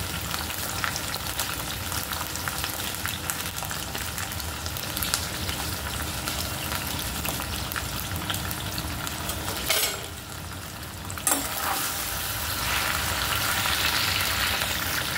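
Okra (bhindi) pieces frying in a pan over a high flame for masala bhindi, a steady dense sizzle throughout with a brief dip and a couple of sharp clicks near the end, no voices.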